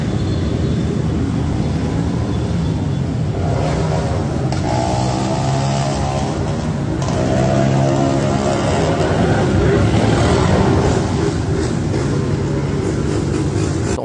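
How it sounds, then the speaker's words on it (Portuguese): A large pack of more than 50 loud motorcycles riding together through a street in Rio de Janeiro's south zone, a dense continuous engine roar with rising passes and a tonal whine midway, steady throughout. "São mais de 50 motos fazendo essa zoeira na cidade."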